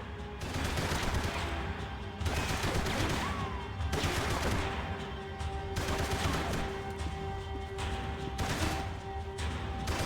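Sustained game gunfire from Max Payne 3, dense bursts of shots running nearly continuously over a music-like background, loud and close with brief dips between volleys.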